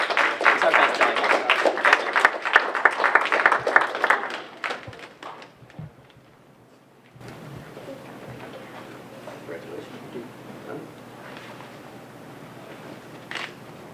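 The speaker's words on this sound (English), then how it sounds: "Let's give a round of applause to all of our award winners." Applause for award winners at a conference closing ceremony, a dense burst of clapping for about four seconds that thins out and stops, followed by quiet room ambience with faint scattered sounds.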